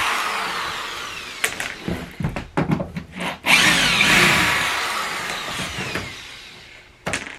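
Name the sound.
power drill removing screws from half pipe ramp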